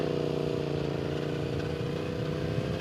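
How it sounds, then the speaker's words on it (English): A motorcycle on a Sinaloa beach runs through sand with a steady close low engine drone and a rapid pulsing rhythm, continuous and without talk. "it's pretty crazy driving on sand"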